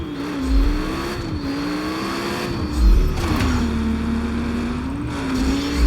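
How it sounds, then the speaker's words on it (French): Game car in Just Cause 3 accelerating hard with a steady wavering engine drone, deep low rumbles swelling a few times as it slides into a drift, loud and close with no talking. "J'accélère comme si la route m'appartenait. Petit dérapage."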